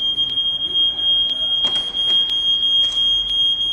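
A smoke detector alarm sounds as one steady, piercing high tone that holds unbroken throughout, with faint background clatter beneath it.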